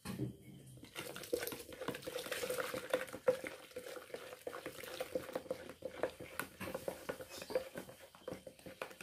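Alum floor cleaner solution is stirred with water in a container, making soft, irregular liquid sloshing and scraping strokes at close range, fairly quiet.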